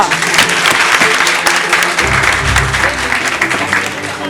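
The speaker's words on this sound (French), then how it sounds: "Et le 4e, monsieur Bachir Touré, que je vous demande d'applaudir." Loud, dense audience applause fills the hall at a debating contest as jury members are introduced, a sustained clatter of many hands with no break.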